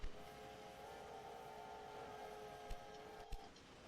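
An express train in Railway Empire 2 rolls along with a steady droning hum and a sustained whistle-like tone, quiet and even, broken by a couple of soft clunks near the end.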